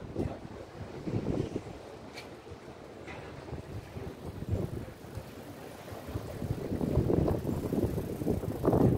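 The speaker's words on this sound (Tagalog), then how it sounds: "Mahangin lamang." Strong wind buffets the microphone outdoors near a river, heavy irregular gusts of low rumbling roar swelling and easing, loudest toward the end, with no voices.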